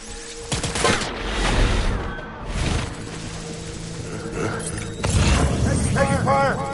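Video game gunfire in bursts, rapid automatic volleys with a growling roar mixed in, loud and close, with shouted voices over the shooting.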